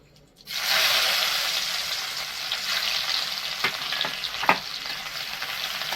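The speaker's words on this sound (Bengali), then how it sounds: "রসুন আর শুকনো লঙ্কাটা আমি হালকা লাল করে ভেজে নেব।" Garlic and four split dried red chilies drop into hot oil over a low flame for masoor dal with jute leaves and burst into a loud sizzle, which settles into a steady frying hiss with a few stirring clacks and no speech.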